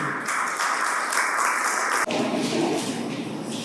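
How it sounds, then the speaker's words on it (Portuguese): Sustained audience applause for speakers at a corporate governance panel, a dense, even clapping from a crowd that continues steadily throughout. "Salve de palmas também"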